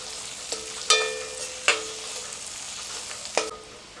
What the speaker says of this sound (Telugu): ముందు మనం ఆనియన్స్ని ఎర్రగా వేయించుకుందాం.